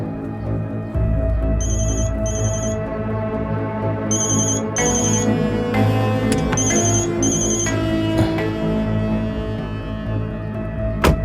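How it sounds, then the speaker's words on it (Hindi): A telephone rings with a melodic electronic ringtone in repeated bursts, loud and clear over a low background hum, with no talking. "किसका फोन था?"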